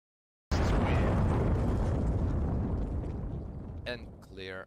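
Grenade blast in a Counter-Strike match, a sudden loud explosion with a long rumbling decay, followed by a few short sharp clicks and noises near the end.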